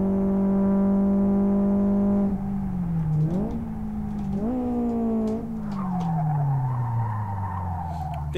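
A Fiat Uno 1.3 from 1989 in the Live for Speed racing game holds a loud, steady engine drone whose pitch wavers and then falls away, while a scratchy tire screech rises over it near the end of an attempted spin.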